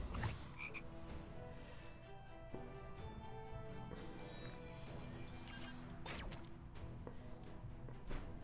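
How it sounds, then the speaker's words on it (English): A frog croaks after a character is transformed in the Disney Sorcerer's Arena video game, a short game sound effect set among other clattering game effects and whooshes, fairly quiet overall. "All right, we're gonna turn this dude into a frog."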